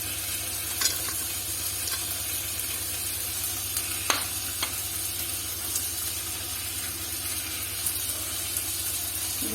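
Grilled vegetables lightly frying on a hot sizzler plate for chicken sizzler, a steady close sizzle and hiss with a few soft stirring clicks, no talk.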